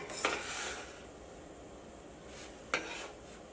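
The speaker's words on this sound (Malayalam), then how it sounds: "അപ്പോൾ നമുക്കിങ്ങനെ മിക്സ് ചെയ്യുമ്പോൾ ഇങ്ങനെ സ്പൂൺ വെച്ച് മിക്സ് ചെയ്യുമ്പോൾ" A spoon stirs soya chunks in a pot of boiling water, with two sharp clinks against the pot over a soft bubbling background hiss, near and fairly quiet.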